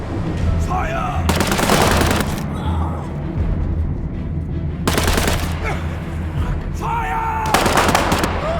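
Heavy bursts of automatic gunfire in the video game War Mongrels, two long dense volleys close and loud with a sharper burst near the end, separated by quieter game ambience.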